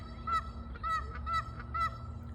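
Geese honk repeatedly in a quick, regular series of nasal calls over a low background hum, fairly close, outdoors on a rural home property.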